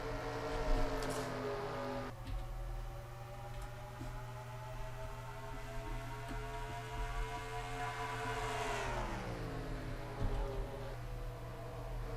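Stock cars roar away from the green flag at Gateway in a Camping World 400 league race, a steady loud engine drone with layered harmonics that dips in pitch near the middle and climbs again, with no talking.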